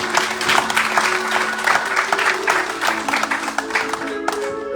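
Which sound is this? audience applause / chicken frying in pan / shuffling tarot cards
audience applause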